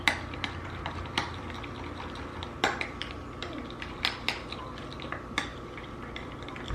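A spoon mixes spicy cilantro aioli sauce with lemon juice and ground pepper in a bowl, giving a run of light, regular clinks and taps against the side over soft wet stirring, close and fairly quiet.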